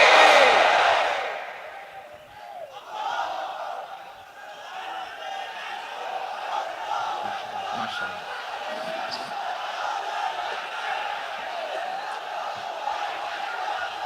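A large crowd at an Islamic lecture (waz) shouts takbir in unison, a loud burst that fades and gives way to a sustained mass of voices and reverberant hall ambience.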